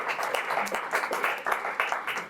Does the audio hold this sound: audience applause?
yes